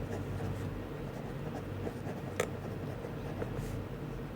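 A pen scratches across paper in short, quiet strokes, with a faint steady hum behind it and one sharper tap partway through.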